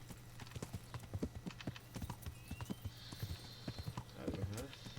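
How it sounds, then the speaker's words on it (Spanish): Horse hooves clip-clop in the video game Kingdom Come, a quick irregular run of sharp, close thuds under intermittent talking, with a brief whinny near the end. "Haces, montate al caballo"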